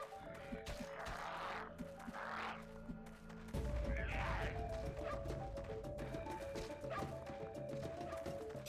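A pet dog in an old action RPG video game yips and barks in several short bursts over steady game music and effects, with a louder thump of game action partway through.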